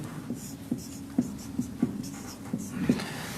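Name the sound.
writing on a board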